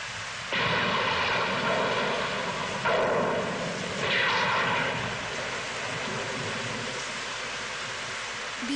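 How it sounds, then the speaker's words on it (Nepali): An airplane flies through a rainy scene in a Moomin cartoon, a broad steady engine drone that swells in a few surges and carries on throughout, with rain-like hiss mixed in and no talking. "यो जहाज उडाएरै छाड्छु"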